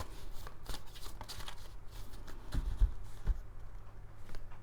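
Tarot-style cards being shuffled and cut by hand at close range: soft riffling rustles and sharp slaps in an irregular rhythm, fairly quiet and with no talking.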